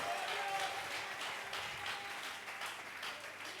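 A church congregation applauds and acclaims Jesus, a steady wash of clapping that carries through from start to finish at a moderate, slightly distant level.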